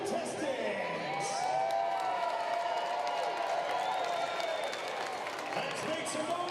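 Arena crowd at a Minnesota Monsters vs Nashville Kats arena football game cheering and clapping for contestants, a loud, sustained roar of voices and applause with an announcer talking over it.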